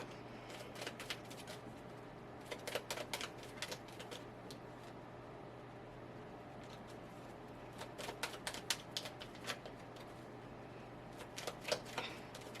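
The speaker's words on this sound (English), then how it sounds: "let me get the rest of the cards out and then we can just dig into all of them" A deck of cards is taken out and handled, giving faint, scattered papery clicks and flicks that come in small clusters over quiet room tone.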